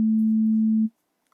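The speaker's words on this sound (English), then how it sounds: "That's a sine wave." A steady sine wave from an analog oscillator holds one pure, smooth tone for nearly a second, then cuts off abruptly into silence.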